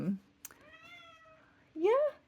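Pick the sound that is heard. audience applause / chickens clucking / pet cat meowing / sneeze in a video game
pet cat meowing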